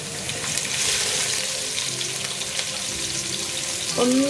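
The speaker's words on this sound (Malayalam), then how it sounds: "ചൂടായ എണ്ണയിലേക്ക് നമുക്ക് വെളുത്തുള്ളി ചേർത്ത് കൊടുക്കാം." Garlic and thinly sliced green chili fry in hot oil, giving a steady, close crackling sizzle throughout, with a faint tonal whistle rising near the end.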